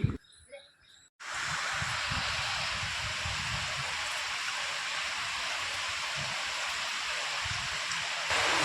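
Rainwater pouring from a bucket filter straight down into a bore well, a steady loud rushing and splashing flow that starts abruptly after a brief quiet moment and holds constant.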